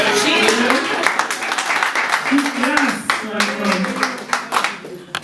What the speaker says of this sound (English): Come on, clap for her.